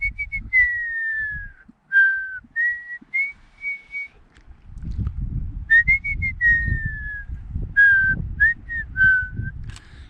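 A person whistles a wavering, sliding melody in a series of short phrases, clear and close, with low rumbling handling or wind noise beneath the second half.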